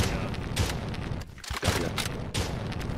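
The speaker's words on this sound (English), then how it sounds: "I'm gonna unload this entire chain gun." Chain gun in a video game firing in dense continuous bursts, with a short gap midway before the rattling resumes, loud and close, with a voice partly mixed in.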